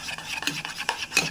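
Soft gram flour batter being stirred and mixed with a spoon in a bowl, giving short, close, wet scraping strokes in a quick irregular rhythm.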